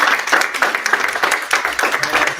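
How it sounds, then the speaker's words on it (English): Brief burst of audience clapping at a gaming pitch event, a quick dense patter with a voice speaking over it. "A round of applause for C Tribe."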